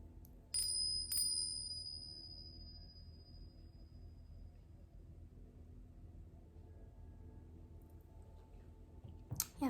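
Small tingsha-style bells ring twice in quick succession in a quiet room, their bright metallic tones lingering and slowly fading over several seconds.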